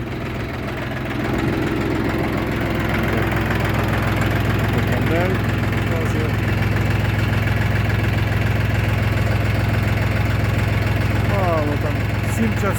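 A YTO 244SX tractor engine runs steadily while driving in the evening, a loud continuous mid-pitched diesel drone with a constant throb throughout.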